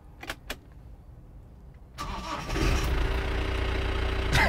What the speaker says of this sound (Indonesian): Sekarang kita coba nyalakan mesinnya ya.